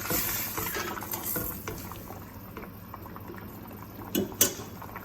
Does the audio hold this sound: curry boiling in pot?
yes